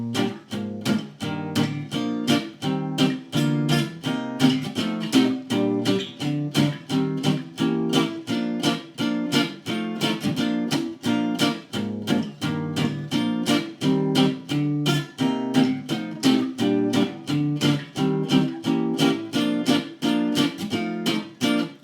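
Guitar chords strummed in a brisk swinging rhythm over a walking bass line, a steady stream of short, punchy, closely recorded chord hits for over twenty seconds with no talking.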